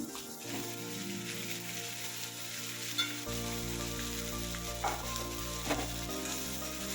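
Steady, crackling sizzle of dhekia fern greens frying in a hot pan with fried egg, with occasional stirring clinks over a constant hiss.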